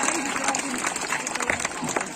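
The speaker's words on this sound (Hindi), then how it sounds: "जोरदार तालियां" Loud applause from an audience at a live Hindi speech event, dense and sustained clapping filling the whole moment with scattered voices mixed in.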